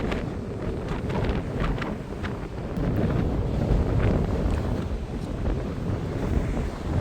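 Wind on a mountain summit during a hike roars and buffets the microphone in a loud, continuous rumble with gusting swells throughout, no voices heard.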